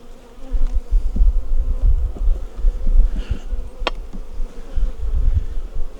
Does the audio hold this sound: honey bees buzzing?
yes